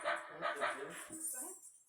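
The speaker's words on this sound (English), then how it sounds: "Felix, do you want to play a dog sound?" Dog barking sound effect played from a push button, a few quick barks heard close and fairly quiet, with people talking over and around it.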